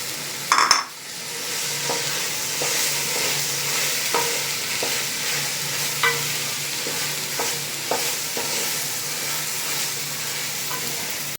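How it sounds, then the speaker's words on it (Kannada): Beans, carrot and mushroom fry in a pan for mushroom pulao, with a steady close sizzle. A clatter opens it, and light stirring knocks and scrapes come at intervals. "ಇವಾಗ ತರಕಾರಿ ಕಟ್ ಮಾಡಿರೋದನ್ನ ಹಾಕೊಳ್ಳೋಣ. ಬೀನ್ಸ್, ಕ್ಯಾರೆಟ್, ಕಟ್ ಮಾಡಿರೋ ಮಶ್ರೂಮ್"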